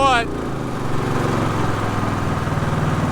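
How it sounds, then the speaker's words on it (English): A boat's outboard motor runs in a steady, droning hum, continuous, close and fairly loud, with a brief voice at the very start. "cut the motor so it's not so loud"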